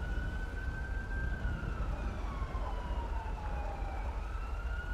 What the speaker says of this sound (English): you just heard another pair of sirens actually go up there